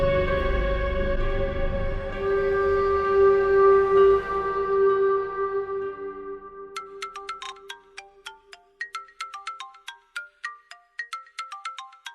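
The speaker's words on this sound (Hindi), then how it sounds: "अल्लाह खैर करे, उमर का फोन ना" A phone ringtone plays alone, first a sustained tonal melody, then a quick series of bright plinking notes that repeat.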